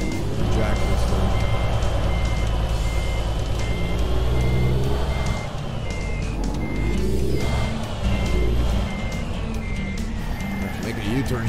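Reversing alarm of a semi truck backing up in American Truck Simulator, evenly spaced loud beeps repeating over rumbling engine noise and a talking voice.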